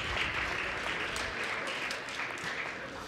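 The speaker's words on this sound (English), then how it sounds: "give her a round of applause for that" A crowd at a CARIFTA Games recognition ceremony applauds an under-20 heptathlon athlete from the BVI, giving a steady, fairly loud wash of clapping that holds for the whole stretch with no talk.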